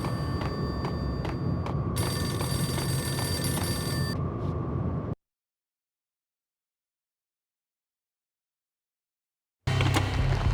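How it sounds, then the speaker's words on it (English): A payphone rings repeatedly in the Max Payne video game, a bright electronic telephone bell heard clearly alone before a sudden cut to silence, then resuming briefly. "The payphone started to ring."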